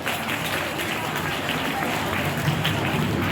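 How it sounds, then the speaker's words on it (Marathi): An audience at a school scholarship event in Viman Nagar claps loudly and continuously, a dense, even wash of applause with a voice speaking over it. "जोरदार टाळ्या वाजवायच्या."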